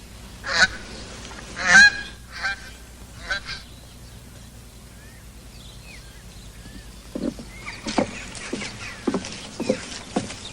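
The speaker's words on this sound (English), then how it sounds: "Quack, quack." Honking waterfowl calls, loud and rough, come in several bursts early on, then quieter scattered calls return near the end over a low steady background hum.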